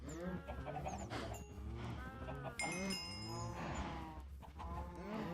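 Several cows moo in a Minecraft-style vanilla survival game, low drawn-out bovine calls repeating and overlapping across the clip, fairly close and clear with other game sounds faintly behind.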